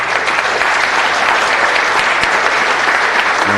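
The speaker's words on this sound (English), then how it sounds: "So these guys deserve a big round of applause." An audience gives a round of applause for the judges at a city council meeting, a dense, steady burst of clapping from many hands that fills the room.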